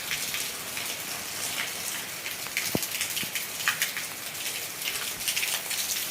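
Heavy monsoon rain pours steadily onto fields and surfaces outdoors, a dense continuous hiss with scattered drips and splashes, heard alone without voices.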